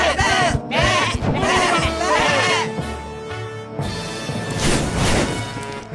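Several goats bleat in overlapping, wavering cries, loud and close, with a brief knock partway through and a general farmyard bustle behind.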